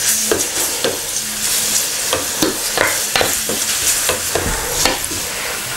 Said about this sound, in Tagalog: So, lagay na natin yung bawang.